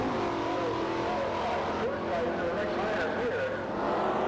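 A 1964 Comet wagon drag race car roars loudly and steadily as it launches down a 1960s Southern drag strip, with a voice faintly audible over the engine.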